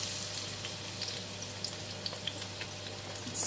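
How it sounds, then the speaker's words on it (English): Red and yellow onions fry in hot cooking oil in a pan, giving a steady, close hiss of sizzling with small crackles and pops throughout, alone without any voices. "I'm going to put in all the onions first."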